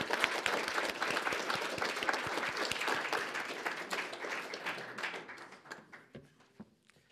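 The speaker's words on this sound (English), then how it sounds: "So please give them a round of applause." Audience applause for teachers at a university ceremony, a dense burst of many hands clapping that gradually thins to scattered claps and fades out.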